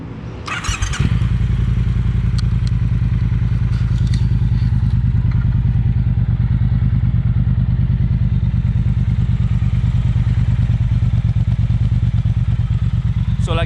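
A Triumph Bonneville Bobber Black 1200 cc motorcycle with a ride-by-wire throttle idles steadily and loudly up close. The deep, even engine throb continues unbroken from just after the start to the end.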